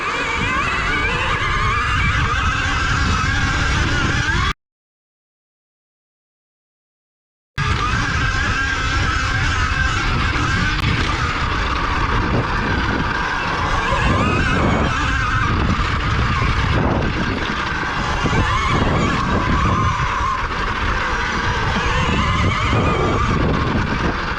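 A 2020 KTM Freeride E-XC electric dirt bike launching hard in launch mode, its loud continuous motor whine and wind rush steady throughout, broken by a brief silent dropout early on.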